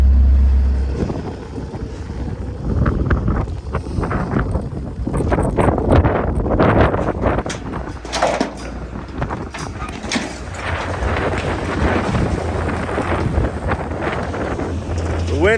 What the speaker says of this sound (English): The wind out here is still just insane